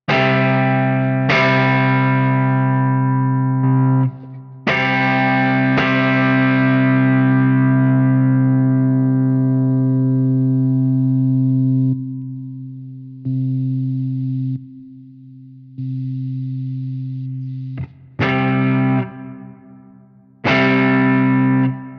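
Electric guitar run through a Fractal Audio Axe FX III with the compressor block off: hard-picked notes and chords that break up into heavier distortion, then decay fast with short tails and gaps of silence, loud and alone.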